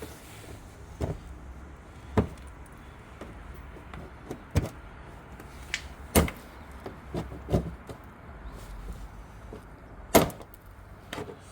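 Plastic trim clips being pried out around the headlight area of a 2022 Dodge Challenger, giving a handful of sharp, separate clicks and snaps spaced a few seconds apart over a low, quiet background with no talk.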